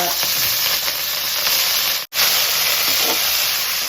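Mustard seeds and green chili sizzling loudly in hot oil, a continuous bright frying hiss with steady crackle throughout, briefly cut off for an instant midway before resuming.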